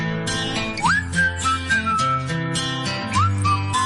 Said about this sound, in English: Hey, I'm whistling.